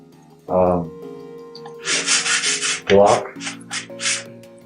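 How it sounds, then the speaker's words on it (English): A 180-grit sanding block rasps across the door of a 1974 Chevy Nova in quick back-and-forth strokes, two short bursts then a longer run, close and fairly loud. "So I've been sanding the door, as you can see, and this is the first pass of the sanding process."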